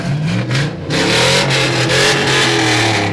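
Big muscle trucks rev their engines loudly in a Christmas parade, a continuous close roar of revving with brief dips and surges throughout.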